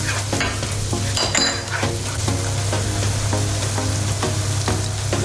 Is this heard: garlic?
yes